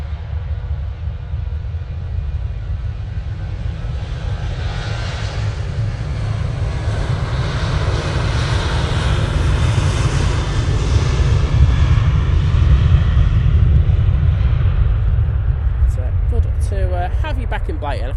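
Emirates airliner on flight EK20 at Manchester Airport, a deep roaring jet rumble that swells louder toward the middle and holds, with wind buffeting, and a voice speaking near the end.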